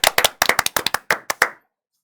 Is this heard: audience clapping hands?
yes